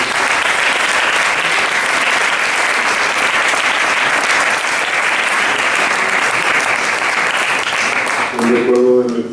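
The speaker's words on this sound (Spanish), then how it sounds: "le damos otro aplauso." A museum audience at a sculptor's event claps loudly and continuously, a thick unbroken wall of applause that holds for several seconds before a voice begins speaking near the end.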